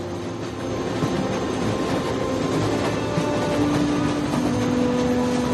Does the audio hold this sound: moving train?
yes